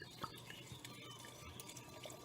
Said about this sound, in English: Usually one of these big bottles that I'm pouring out of right now is the perfect amount for the 1 liter